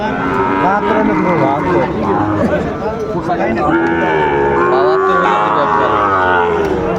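A Sahiwal bull calf at a cattle market moos loudly and up close in repeated drawn-out calls that overlap one another, with crowd chatter and other livestock sounds in the background.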